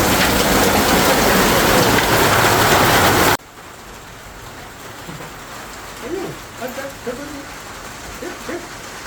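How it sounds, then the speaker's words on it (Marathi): Heavy rain with hail pounds a tin sheet roof as a loud, dense roar for about three seconds. Then it drops to a softer steady patter while a person talks over it. "मी आतापर्यंत असं पाऊस कधीच बघितला नव्हता."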